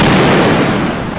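A single heavy boom from an 8.8 cm Flak 18 anti-aircraft gun firing, loud and close, with a broad blast that rolls on through the whole moment.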